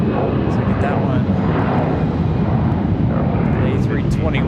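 Frontier Airlines Airbus A321 taking off at Charlotte Douglas International Airport, a loud steady jet roar across the whole stretch with a voice talking over it.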